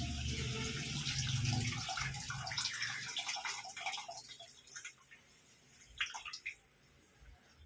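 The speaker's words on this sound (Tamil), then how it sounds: "இந்த புளி வச்சுக்கிறோம் கரைச்சி அதையும் ஊற்றிடலாம்" Tamarind water being poured into a pot while cooking garlic kuzhambu in a Trichy home kitchen: a steady watery splash and trickle that tapers into scattered drips and clinks.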